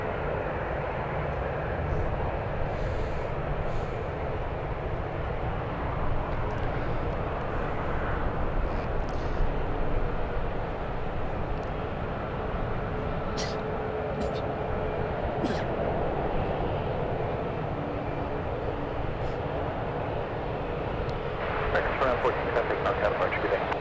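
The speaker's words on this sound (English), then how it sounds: "the Lufthansa about to fly over San Francisco." A Lufthansa airliner flying over San Francisco, a broad steady jet roar lasting throughout, moderately loud, with faint voices and a few clicks in the background.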